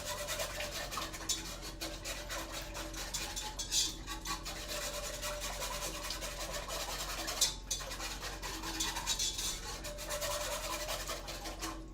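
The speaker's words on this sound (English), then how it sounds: "And then, actually to break up the chunks, I'm gonna use a little whisk" A small whisk beats coconut milk in a pot to break up chunks, making a continuous fast scraping and rubbing with a few louder clinks against the metal, close and unaccompanied by talk.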